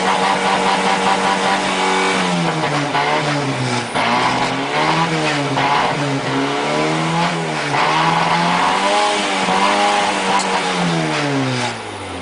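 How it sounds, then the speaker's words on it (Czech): A Škoda Favorit fitted with an Avia turbo engine runs steadily and loudly, its pitch rising and falling with repeated revs throughout, close up and with no talking. "Se sešlápnutým spojkovým pedálem řádně nastartovat motor."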